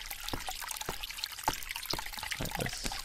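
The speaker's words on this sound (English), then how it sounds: "I hear running water." Running water trickles and dribbles in the Agatha Christie: The ABC Murders video game, a soft, steady pouring sound heard alone with no talk.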